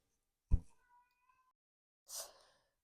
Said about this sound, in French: j'avais mon chat qui faisait que miauler.